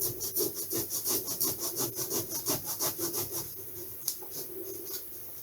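A saw cuts through a balsa model-aircraft wing along its centre line in quick, even rasping strokes, about two per second, close and clear, slowing and fading toward the end.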